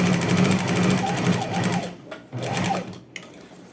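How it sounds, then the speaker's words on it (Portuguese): A sewing machine runs steadily, closing an elastic waistband seam on a pair of shorts, with a brief pause and a short backstitch burst before it stops; close and fairly loud, no talking. "Passo uma costura fechando o meu elástico."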